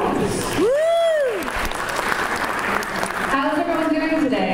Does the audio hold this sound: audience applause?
yes